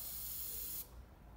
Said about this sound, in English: spray can, a bit of paint, a little brush, spray into the lid.